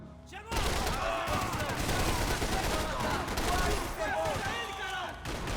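Sustained gunfire in the video game Max Payne 3, dense overlapping shots and bursts that continue almost unbroken at close range and fairly loud.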